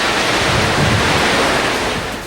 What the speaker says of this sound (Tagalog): Kita sa labas ng hotel ng aming tinutuluyan ang wasiwas ng hangin sa mga punong nakapaligid.